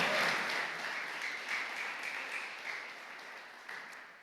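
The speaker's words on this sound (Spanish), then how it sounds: "Dale un aplauso al Señor si lo crees conmigo." A church congregation applauds during a sermon, a steady wash of many hands clapping that slowly fades, heard from a distance with no one speaking over it.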